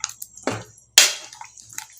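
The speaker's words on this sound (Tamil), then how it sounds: "நல்லா கலக்கி விட்டுக்கோங்க." Sambar masala being stirred with water in a pot, a few short wet sloshing and scraping strokes with brief gaps between them, close and fairly loud.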